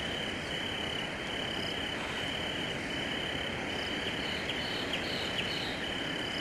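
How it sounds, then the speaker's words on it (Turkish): Crickets chirp steadily at night in a quiet countryside spot, their thin high trill holding over a soft bed of insect and frog noise. "Cırcır cır böceklerini duyuyor musun?"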